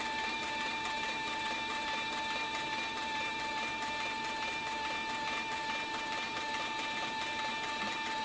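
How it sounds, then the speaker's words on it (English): A Cowboy CB4500 leather sewing machine runs steadily at speed, giving a continuous, even mechanical whir with a fine rapid stitching rhythm throughout, with no talking. "As you can see, the machine just takes off and"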